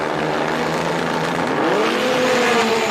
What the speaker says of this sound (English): you can hear the roar of these engines as we get ready to go